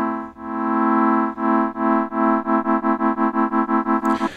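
A sustained synth tone on a Yamaha CS-50 synthesizer passes through its ring modulator, the pulsing rate speeding up from slow swells to rapid, choppy tremolo-like beats before cutting off.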